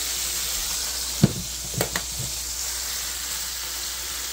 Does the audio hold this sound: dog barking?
no